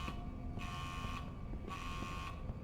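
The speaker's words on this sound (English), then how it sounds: "Yeah, I get it. You're an alarm. Shut up already." An electronic alarm buzzer sounds in steady, moderately loud tonal pulses, switching on and off about every half second to second, with no talk over it.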